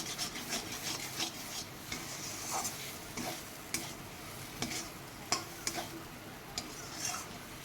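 Mashed taro being stirred and pressed in a dry pan, repeated rough scraping and rubbing strokes of a spatula at an uneven rhythm, close but fairly quiet, no speech.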